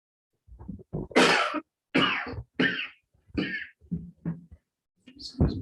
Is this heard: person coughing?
yes